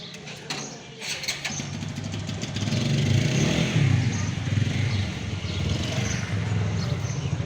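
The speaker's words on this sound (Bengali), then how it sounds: "ইঞ্জিন" A 2020 Suzuki Gixxer Monotone motorcycle, in fresh condition, runs close by with a steady low engine rumble that grows slightly louder and fuller after a few seconds and then holds, with no talking.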